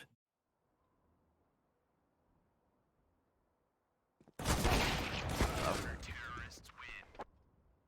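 Counter-Strike: Global Offensive match gunfire, a burst of loud rapid shots and bangs erupting after several seconds of near silence, then fading, with no talk over it.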